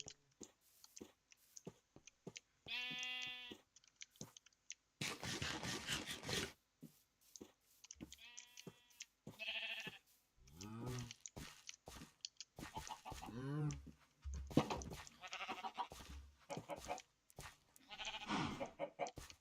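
Sheep in the Minecraft video game give repeated short bleats, joined by other farm animal calls, scattered across the span at moderate level with gaps of silence between them.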